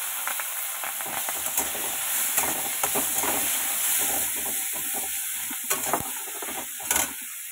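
Pointed gourd and green chillies fry in a pan with a continuous hissing sizzle and occasional stirring scrapes, close and steady throughout, with no speech.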